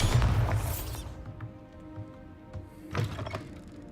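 A Bombarda explosion spell goes off in Hogwarts Legacy: a loud, deep blast with a broad rumbling crash that fades over about a second, followed later by a second burst.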